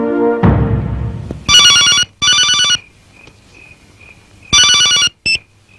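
An electronic telephone ringtone sounds in several loud bursts with short gaps, preceded by a brief crash-like noise, and fades into quiet between rings.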